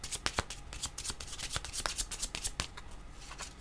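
Tarot cards are shuffled by hand, close and soft, a quick run of papery riffles and slides in an irregular rhythm, with no talking.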